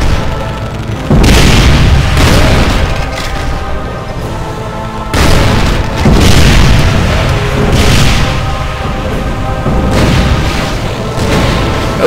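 Repeated heavy grenade explosions in a Doom video game map, loud booming blasts arriving every few seconds with rumbling tails, alone without talk.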